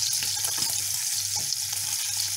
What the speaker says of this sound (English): Pancetta is popping